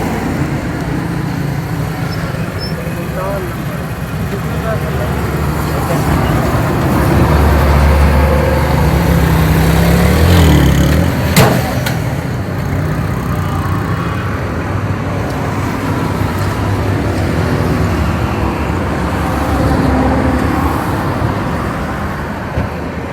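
A Suzuki FX car engine idles steadily and fairly loud, with a continuous low rumble and some roadside traffic noise around it, no talking over it.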